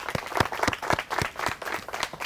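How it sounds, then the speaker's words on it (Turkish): Audience applause for students at a university sector event, a short run of distinct, rhythmic hand claps from a small group at close range. "Sizi de alkışlayalım."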